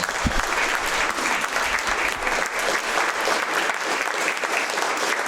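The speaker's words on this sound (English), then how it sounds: "Ladies and gentlemen, let's give both of our candidates a round of applause." An audience at a Nebraska Legislature District 48 candidate forum applauds, a dense, continuous wash of clapping from a crowd indoors, steady and fairly loud throughout.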